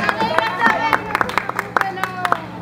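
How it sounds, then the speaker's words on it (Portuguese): Audience clapping for Antônio at a clown day performance, irregular hand claps mixed with excited crowd chatter and a lively voice over the top, fairly close and loud. "Um aplauso para Antônio!"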